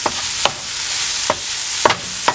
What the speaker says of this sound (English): And then we're just going to mix everything together now.